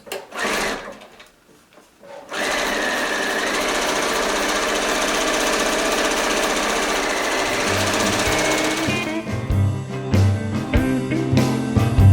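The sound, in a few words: sewing machine sewing hems of a grocery bag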